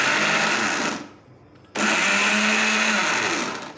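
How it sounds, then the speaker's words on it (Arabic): An electric blender whirs loudly blending vinegar, oil and brown honey, cuts out briefly for under a second, then roars back on and runs steadily before tapering off. "اضرب ده كله في الخلاط"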